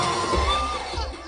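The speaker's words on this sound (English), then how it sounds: "The cheering here is as much for the entertainment that comes with every Filipino campaign." A crowd cheering at a Filipino election campaign rally, a dense continuous roar of many voices with whoops and shouts rising and falling, sounding large and somewhat distant.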